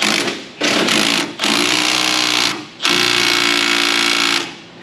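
A pneumatic impact wrench rattles loudly on the lug nuts of a Ford F-250 truck wheel, running in three close, sustained bursts with brief gaps between them.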